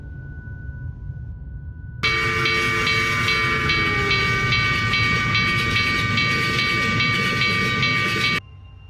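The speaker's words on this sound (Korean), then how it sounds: "그렇게 기차가 지나가고" A train rushes past, a loud sustained roar with metallic screeching and rhythmic clatter that cuts in abruptly and stops just as suddenly, close and steady, used as a sound effect in a horror story.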